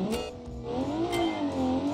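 A car accelerating hard down a drag-racing quarter mile, its engine note rising and falling in pitch through the gears, a steady loud drone heard alone.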